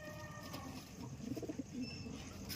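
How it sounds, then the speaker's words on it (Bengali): A Madras giribaz pigeon coos softly, with a few low, rolling coos in a quiet room and faint background hiss. "এ একটা ম্যাড্রাস নর দেখুন, ওর বাড়ি অনেক পুরনো জেনারেশনের পায়রা।"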